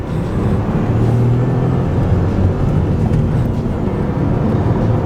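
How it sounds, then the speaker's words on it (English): A 1-litre, 110 hp Dacia Jogger seven-seater pulls hard under acceleration, a steady engine drone with rising tonal hum and constant road and wind roar heard from inside the cabin. "So this is a 1 litre, 110 horsepower, and you'd be surprised at how well this car actually pulls."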